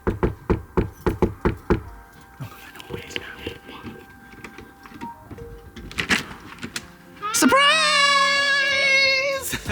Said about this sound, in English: knock on the door and surprise them